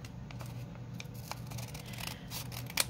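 Scissors snip through the end of a paper notepad in a few quiet, close cuts with faint rustling and a sharper snip near the end.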